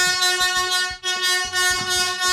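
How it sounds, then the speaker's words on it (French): A loud, sustained foghorn-style air horn blares with a rich, buzzy harmonic tone, briefly dropping out once before blasting again, close and continuous. "Ouais, voilà, la corne de brume."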